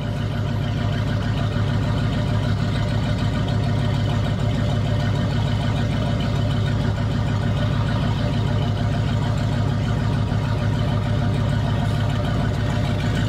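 A 1988 Chevrolet Silverado single cab short box truck's engine runs steadily, a loud, low, rumbling drone with a constant rhythmic throb throughout and no talk.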